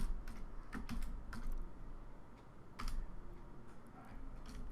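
Code is typed on a computer keyboard in quick irregular bursts of crisp, close key clicks over a faint steady background hum.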